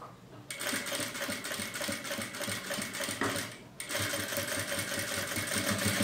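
A sewing machine runs steadily as it stitches a cup coaster made from fabric scraps, closing the opening left for turning, with a brief pause midway before the continuous motor whir and needle clatter resume.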